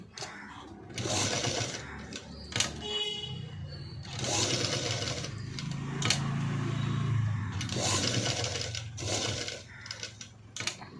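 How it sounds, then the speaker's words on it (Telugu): A sewing machine double-stitches the seam of a sleeveless cut-work padded blouse in several rapid motor bursts separated by short pauses, with a voice speaking quietly between runs. "ఇలా డబల్ స్టిచ్ వేసుకోవాలి"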